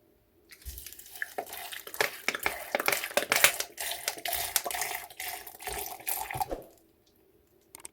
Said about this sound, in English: finally I'm going to add some water and cover and blend for 30 to 40 seconds